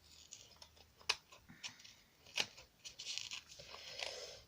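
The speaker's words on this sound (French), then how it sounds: "Si j'avais pris un plus petit ciseau, peut-être que ça aurait été mieux." Scissors snip and tear through packaging while opening a parcel, giving quiet, scattered crisp cuts and rustles with a few sharper clicks, close by and fairly faint.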